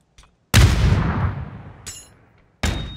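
A cooked grenade going off in the video game PUBG: one loud, close blast with a long rumbling decay, a faint crackle, then a second sharp burst right at the end.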